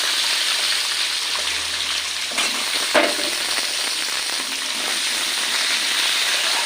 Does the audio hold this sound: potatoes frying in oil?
yes